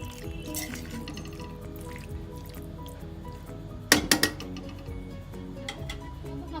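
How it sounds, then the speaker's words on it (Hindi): Indian-style macaroni stirred with coriander in a pan, soft squishy mixing and light spoon ticks with one sharp burst of clinks against the metal, close and fairly quiet, no talk. "अब इसको अच्छे से मिक्स कर लेंगे।"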